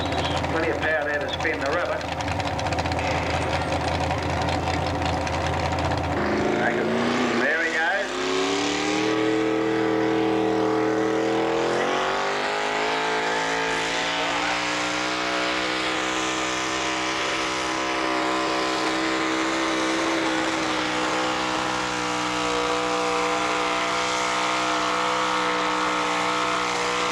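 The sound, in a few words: tractor engine pulling in a tractor pull, wheels spinning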